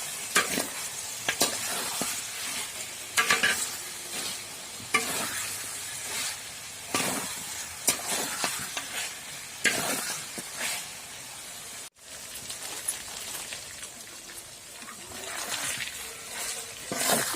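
Chicken masala frying in a pan at a village home, with a steady sizzle and repeated scraping stirs that come in regular bursts, loud and close, and no talking.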